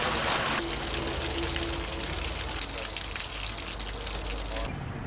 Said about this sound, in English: Completely drain all water from the pump.